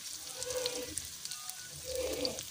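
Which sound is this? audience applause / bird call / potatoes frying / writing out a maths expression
potatoes frying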